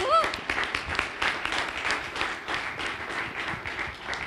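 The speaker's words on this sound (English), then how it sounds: "Can we all clap for him?" Audience clapping for the chief guest, Mr. Pradeep Lokhande, at a talk event: a steady patter of many hands at moderate level, thinning slightly toward the end.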